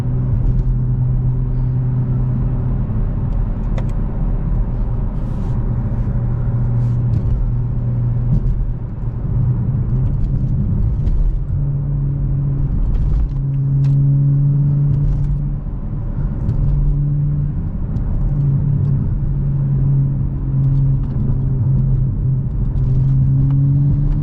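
A 500HP 2022 Toyota Supra driving at half throttle on bumpy roads, a steady loud engine drone with shifting pitch and road rumble heard from inside the car, no talking.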